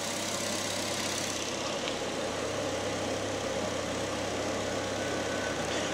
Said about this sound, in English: All the engine's running.